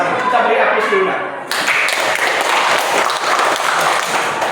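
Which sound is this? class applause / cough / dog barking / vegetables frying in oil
class applause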